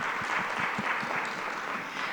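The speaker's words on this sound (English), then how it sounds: "I want to give you a round of applause for just being here" Audience applause during a talk at a St. Luke community gathering, a steady wash of clapping from many hands at moderate level, continuous for about two seconds with faint low thumps beneath.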